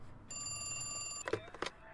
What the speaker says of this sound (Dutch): Ik kan de telefoon opnemen, daar ben ik heel goed in.